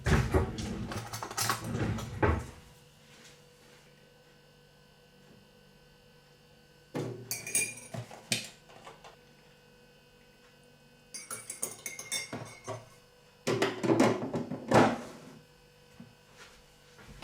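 Cups and cutlery clinking in a home kitchen while tea is made, heard as three separate bursts of clattering and chinking, with quiet mains hum in the gaps between them.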